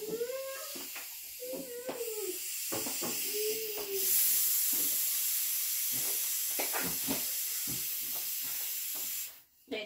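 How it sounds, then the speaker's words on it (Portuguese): A bottle of liquid natural yeast starter for homemade bread hisses steadily as its cap is loosened to release built-up pressure, a continuous airy rush under a few brief voices before a sharp cutoff near the end. "Vamos soltar agora a pressão dessa garrafa."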